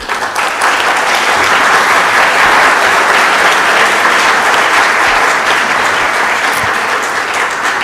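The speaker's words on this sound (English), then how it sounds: "Please give them a warm applause." An audience applauds panelists at a rail innovation conference, with loud, dense clapping that holds steady throughout and eases off slightly toward the end.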